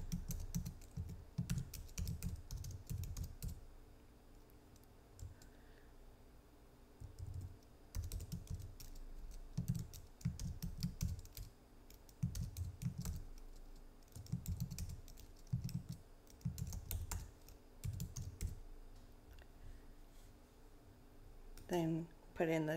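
Computer keyboard typing comes in bursts of quick, light clicks as an address is entered into customer software. The runs of keystrokes are separated by short pauses and sound close and fairly quiet, with a voice speaking at times between them.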